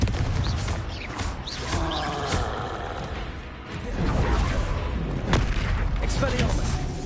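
Spell blasts boom out in a Hogwarts Legacy duel, a dense run of heavy explosive thuds and crackling bursts layered over continuous game noise, loud and close, with spoken spell calls between.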